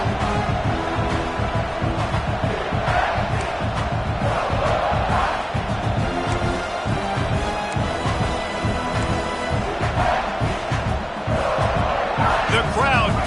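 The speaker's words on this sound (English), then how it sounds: "The crowd getting behind this defense as they try to get a stop in the red zone" Stadium crowd roars and cheers in an American football video game as the defense tries for a red-zone stop, a loud, continuous swell of voices with whoops and shouts.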